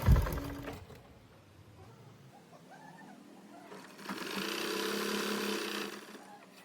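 A sewing machine stitches the double-folded bottom hem of a churidar top, quiet at first, then running in a steady whirring burst of about two seconds before stopping.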